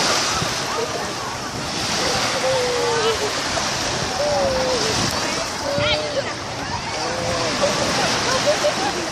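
Sea water sloshing and splashing at a beach as a child's legs are washed, with steady surf and water movement throughout and voices talking over it.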